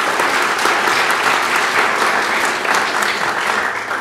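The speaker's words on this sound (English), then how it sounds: "go ahead, applaud him." Audience applause at a panel event on U.S.–Europe relations with Visegrad Group ambassadors, steady dense clapping filling the room at an even, sustained level throughout.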